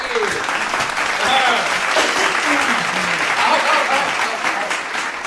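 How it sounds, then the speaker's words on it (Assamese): A crowd at a stage show claps steadily and loudly for a performer called Shikhar Baba, a continuous dense wash of applause with a few voices faintly rising over it. "শিখৰ বাবাক হাত চাপৰি আমন্ত্ৰণ কৰি আনক ৰাইজ, হাত চাপৰি।"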